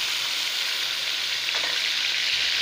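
Onion and green chili paste fries in hot oil over potatoes with garlic and ginger, giving a steady, close, even sizzle with no voices throughout.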